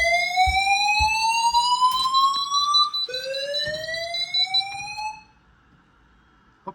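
A house fire alarm sounds loud and close in two long rising sweeps of tone, each repeating, then cuts off into near silence with a faint click at the end.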